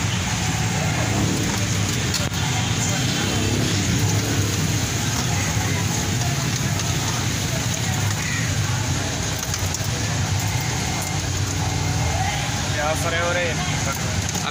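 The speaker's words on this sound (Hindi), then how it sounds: "एक जगह हाफ फ्राई चल रहा है दूसरी जगह फुल फ्राई चल रहा है" French fries frying in hot oil at a street food stall, a dense, continuous crackling sizzle throughout, with faint voices in the background.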